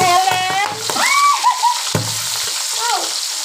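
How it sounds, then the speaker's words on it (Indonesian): Squid fries in hot oil with a loud, continuous sizzle and scattered pops and crackles, close up, while someone speaks over the cooking. "Nanti kalau goreng cumi ini dia agak meledak-ledak tuh."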